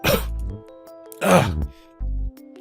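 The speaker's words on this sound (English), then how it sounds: "Been coughing a bunch." A character in the video game Speed Dating for Ghosts coughs twice in short, harsh bursts, with a brief lower grunt after, over a steady synthetic music bed.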